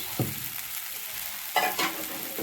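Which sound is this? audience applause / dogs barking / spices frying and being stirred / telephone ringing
spices frying and being stirred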